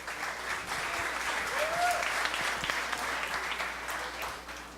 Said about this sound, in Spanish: Un aplauso para Sebas, porfa.